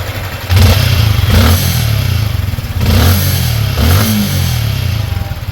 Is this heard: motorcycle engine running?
yes